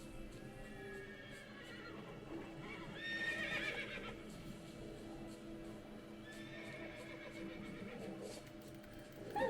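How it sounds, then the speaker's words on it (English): Wild horses in The Witcher 3 video game whinny twice at moderate distance, with a steady patter of hooves and a busy ambient game backdrop beneath. "Hey, I found the wild horse field again."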